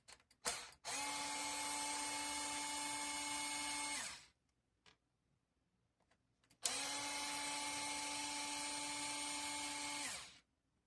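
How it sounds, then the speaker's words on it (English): An electric screwdriver whirs in two steady bursts of about three and four seconds, separated by a short pause with faint clicks, driving screws on a TRX4 F-150 High Trail RC truck build. "electric screwdrivers come in handy for, stuff like this"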